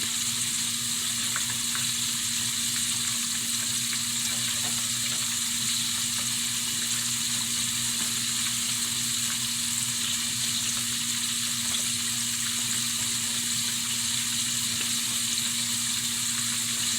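Buttermilk-soaked chicken tenders fry in hot oil with a steady, dense sizzle that holds level throughout, close and continuous with no talking.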